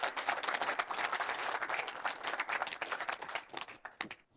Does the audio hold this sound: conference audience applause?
yes